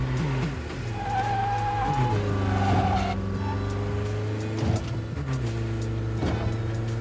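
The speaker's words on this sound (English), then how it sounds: "I love how quickly he shifts down the gears. It's like a GT3 car almost" A race car in the Neverness To Everness video game rapidly shifting down through the gears like a GT3 car, engine note stepping through quick downshifts with tire squeal, loud and continuous without talk.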